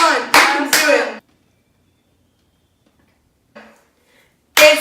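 Hand clapping during a blind baking challenge, a few very loud close claps in a quick burst, then silence, a faint sound, and another sharp loud clap at the end.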